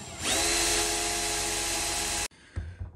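A power drill whines steadily and loudly at high speed for about two seconds while drilling a pilot hole into a lock, then stops abruptly, followed by a few faint clicks and rattles.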